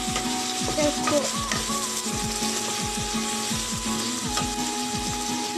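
Pumpkin curry with tomato stirred as it cooks, a steady sizzle under a rapid run of scraping, ratcheting utensil strokes against the pan, close and continuous.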